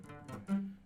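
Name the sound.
unmuted guitar strings ringing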